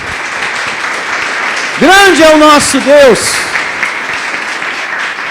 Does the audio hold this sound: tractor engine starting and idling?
no